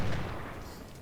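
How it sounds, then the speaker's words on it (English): Napoleon cannon artillery booming in the Civil War strategy game Ultimate General at the Battle of Gaines' Mill, a single heavy rumbling blast that rolls and fades over about a second. "These Napoleons can, in the meantime, shoot down on Martindale."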